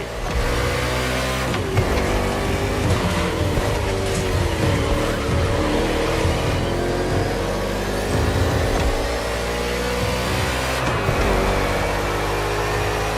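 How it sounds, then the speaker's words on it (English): NASCAR race cars roar through an urban Hawaii circuit in the video game The Crew Motorfest, their engines a dense, continuous, loud drone with pitch shifts as they accelerate, and no voices. "The green flag is in the air, and we are racing in a purely urban race here in Hawaii."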